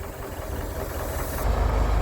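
A loader's diesel engine runs steadily during bucket loading, a low rumble that swells louder and heavier near the end of the clip, with no talk over it.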